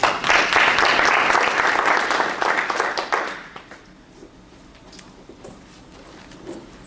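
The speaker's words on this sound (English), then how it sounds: "So I just want a round of applause" Applause from guests at a Rotary club meeting welcoming a speaker, with many hands clapping briskly at first, then thinning to scattered claps and fading into room quiet.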